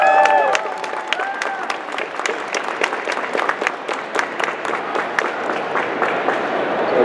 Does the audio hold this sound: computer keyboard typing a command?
no